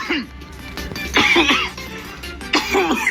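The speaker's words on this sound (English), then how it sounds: "It was supposed to be a fake cough and it went to an actual cough." A person coughs a few times close by, harsh raspy bursts separated by short pauses.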